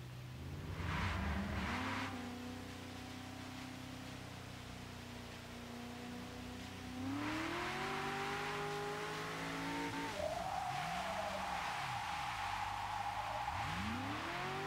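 Shelby 350R with a 640 hp drift build in Forza 6, the engine revving and rising through gears with tire squeal and skidding as the car slides, loud and steady throughout.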